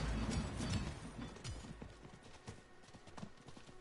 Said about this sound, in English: let me hop back on the horse